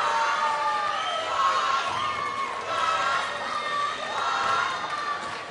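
An arena crowd cheers and shouts after North Shore wins a girls' basketball championship game at the McDonald's Texas Invitational, with whoops and swelling waves of noise filling the room at a steady, loud level throughout.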